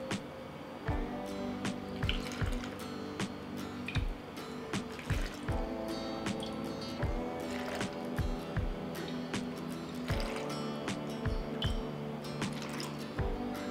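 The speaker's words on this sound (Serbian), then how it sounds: "Voda je proključala i sada ćemo sipati u tegle." Boiling sugared water poured from a pot into glass jars, a steady liquid pour with repeated dripping and splashing plinks, close and fairly loud throughout with no talking.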